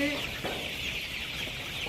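Thirty-one-day-old chickens clucking in a steady, busy background din, with a broad hiss of a poultry shed filling the whole stretch.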